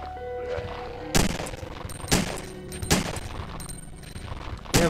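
Repeated gunfire against zombies in the video game Resident Evil 3, loud sharp shots landing about once a second over a steady game backdrop, with no talk.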